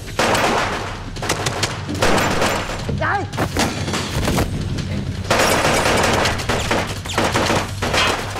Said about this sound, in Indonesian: Ching menembak semua anak buah Sky